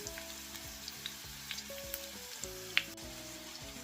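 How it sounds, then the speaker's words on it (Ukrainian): Cabbage patties sizzle in hot oil over medium heat with a steady crackle and scattered sharp pops, close up, over soft background music. "На розігрітій олії смажимо на середньому вогні."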